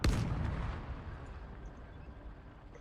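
A loud blast goes off in the Minecraft game as a tank detonates its target, with a heavy boom at the start that rolls off into a long, rumbling decay.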